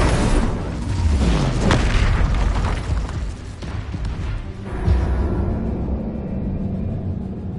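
Spell blasts in Hogwarts Legacy, booming bursts with rumbling low-end impacts in quick succession over layered game effects, loud and close, with no voices.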